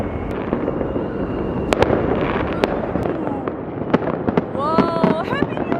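New Year's midnight fireworks bursting over a city center, a dense continuous crackle of bangs and pops with whistling rockets toward the end, crowd voices mixed in.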